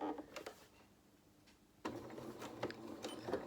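A domestic sewing machine stitches fabric for a Luna Lapin toy's legs, giving brief rattling bursts, a quiet pause, then a louder run of quick mechanical stitching that stays close and fairly faint overall, with no talk.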